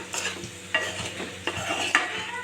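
Gongura chicken stirred in a pan: a spoon scrapes and clinks against the metal in a few distinct strokes over a soft background sizzle, close and clear with no talk.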